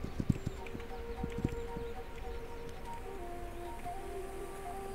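Horses walk in a multiplayer video game, their hooves giving faint clip-clops in a few quick bursts near the start, then fading into a soft, rustling outdoor background.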